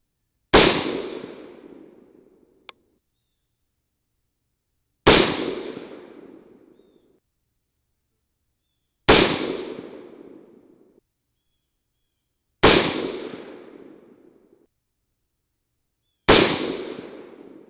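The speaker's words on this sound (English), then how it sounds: "I want to shoot one more group without the suppressor and chronograph" Five loud rifle gunshots fired without a suppressor, each a sharp crack with a long decaying tail, spaced several seconds apart with silence in between.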